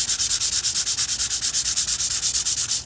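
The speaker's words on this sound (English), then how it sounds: "when you have larger patches like this, you just grab some fine sandpaper." Fine 220-grit sandpaper rubbed over a patched interior wall, a steady run of quick, even back-and-forth scratchy strokes, close and fairly loud, with no talking.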